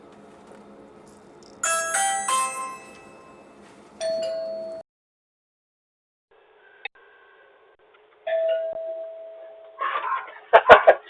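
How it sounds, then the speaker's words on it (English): A Ring Video Doorbell Pro chime rings indoors as a clear ding-dong, sounding twice with a pause between, followed near the end by a few brief noises. "Let's see if we can hear that ding-dong."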